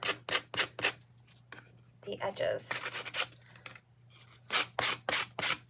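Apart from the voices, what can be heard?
sanding block rubbing edges of a chalk craft piece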